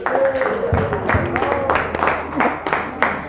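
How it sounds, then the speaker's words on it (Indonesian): A classroom group applauding together, a short scattered round of hand claps mixed with talking voices close by. "Tepuk tangan untuk kita semua."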